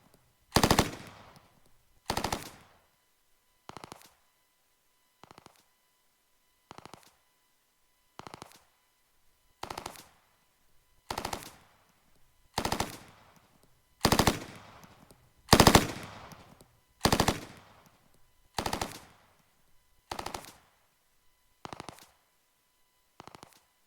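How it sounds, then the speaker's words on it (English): Video game gunshots in Unity crossfading from distant to close-up, a steady series of about fifteen single shots roughly 1.5 seconds apart, starting soft and growing louder and sharper toward the middle before easing off slightly. "we hear the far sound crossfading to the close-up shot sound"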